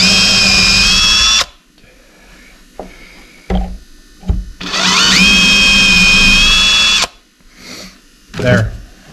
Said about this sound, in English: hold this down here and drill right through the whole thing